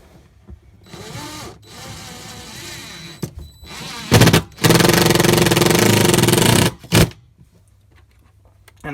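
A power drill drives beveled-head countersunk screws into an ABS toilet flange in an Airstream trailer, with two loud sustained whirring runs, a short one and then a longer one of about two seconds, and brief bursts before and after, heard close.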